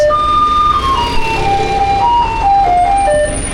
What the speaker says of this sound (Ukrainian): Сміттєвоз сигналізує, що їде забирати сміття.